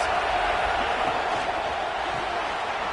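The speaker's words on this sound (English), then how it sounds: "this crowd getting behind its defense." Football stadium crowd roaring steadily throughout to back the home defense during a red-zone stand, a dense, sustained wash of far-off cheering with no breaks.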